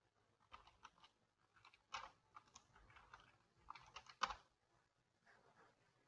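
Computer keyboard typing in scattered, uneven clusters of soft clicks, faint and nearby in a quiet room, without speech.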